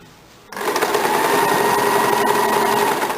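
A home sewing machine runs steadily while double-stitching a blouse lining, starting abruptly after a quiet moment and continuing as a close, even, high whirring hum.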